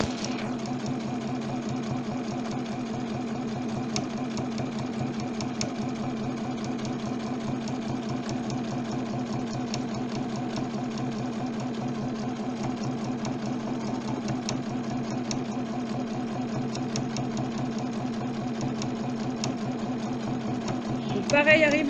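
A sewing machine stitches a straight seam with a backstitch on fabric for stirrup covers, giving a steady, continuous mechanical whirring hum throughout that ends in a brief louder burst.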